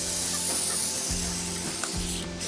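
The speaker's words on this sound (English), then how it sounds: "So we're just going to squirt it with Superzilla" Superzilla lubricant cleaner sprayed from a can into a dirty, corroded sliding door track, a close continuous hiss with slight pulses lasting a couple of seconds.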